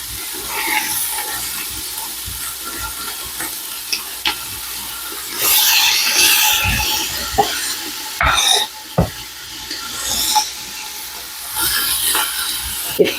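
Chopped bacon cooking in a pot, a sizzling hiss with intermittent bursts of frying crackle and stirring scrapes, loud and close.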